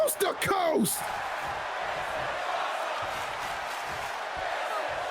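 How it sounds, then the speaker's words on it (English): Crowd noise at a women's professional wrestling show, a loud burst of cheering and shouts with a commentator's voice at the start, then a steady roar of chanting and crowd murmur that carries on evenly to the end. "The crowd chanting, this is awesome."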